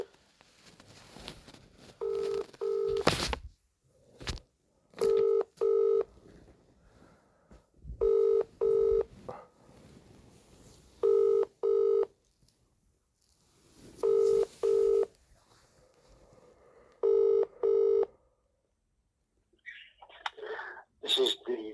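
A telephone call ringing through to voicemail, with paired ring tones repeating in a steady cadence about every three seconds, clear and moderately loud, and a brief voice breaking in at the end.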